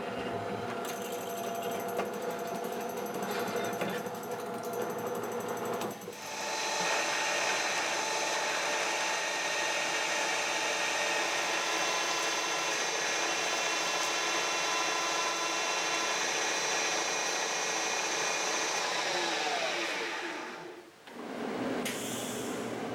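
Steady machine drilling of holes in a metal saddle on a 1961 Buffalo No. 15 drill press, a constant loud whine lasting about twenty seconds that shifts slightly at the start and cuts out near the end.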